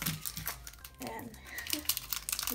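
A Topps 2018 baseball card pack wrapper torn open, giving close, busy crinkling and ripping foil sounds in short bursts, with talk underneath.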